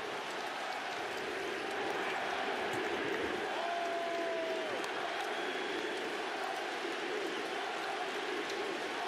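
Basketball arena crowd in a steady roar of cheering and applause after Giannis Antetokounmpo's chase-down block on LeBron James, a broad sustained wash of noise that holds level throughout.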